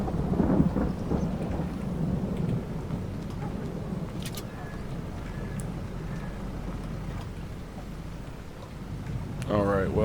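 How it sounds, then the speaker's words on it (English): A thunderstorm with steady rain and a low, rolling rumble of thunder, close and continuous, with a person speaking over it near the start and near the end. "Be a good storm."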